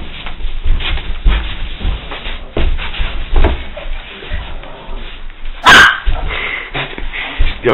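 A dog barks in repeated sharp bursts close by, with people's voices faintly mixed in around the barking.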